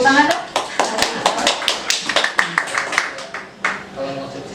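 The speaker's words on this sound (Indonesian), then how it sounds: "Tepuk tangan dong." Hand claps ring out in a quick, uneven run of sharp taps over several seconds in a small live talk-show setting, with speech running alongside.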